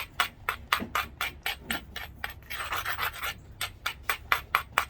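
Flint being ground along its edge during knapping, a steady run of harsh rasping strokes, about two to three per second, loud and close, with a brief smoother stretch partway through.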